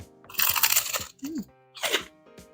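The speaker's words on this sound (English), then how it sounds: "The crunch alone is, like, really out there." Crunchy bites into an air-fried grilled cheese sandwich made in a Typhur Dome air fryer at 450°, a few loud, close crackling crunches with short pauses between them.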